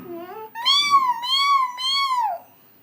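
A house cat gives a short low mew, then two long, loud, drawn-out meows close by, with quiet moments between and after.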